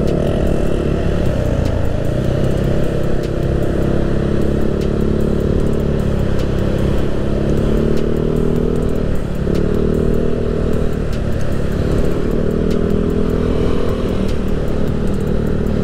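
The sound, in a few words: Yamaha Aerox 200cc bore-up motorcycle engine and exhaust riding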